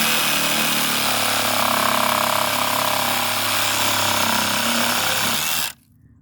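A Ryobi handheld reciprocating saw fitted with a pruning blade cuts steadily through wood, a loud continuous buzzing rasp lasting several seconds before stopping abruptly into near silence.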